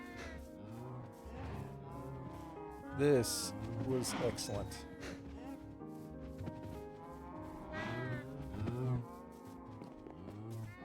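Cows in Minecraft Bedrock Edition moo repeatedly at close range in a penned enclosure, several overlapping calls spread across the stretch, with a person talking briefly over them.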